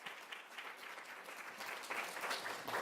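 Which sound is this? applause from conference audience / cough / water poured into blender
applause from conference audience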